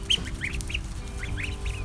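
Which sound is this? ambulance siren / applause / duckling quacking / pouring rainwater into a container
duckling quacking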